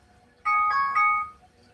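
A phone alarm rings in a room, giving a short bright electronic melody of a few tones that lasts under a second, clear and fairly close over quiet background.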